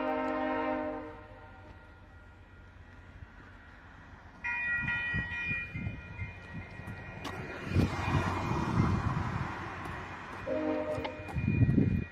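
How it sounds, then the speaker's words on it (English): A VIA Rail passenger train pulled by two locomotives with Budd coaches sounds its horn in long chords, loud and near, then rumbles past with rising wheel and engine noise. "First time ever they're honking."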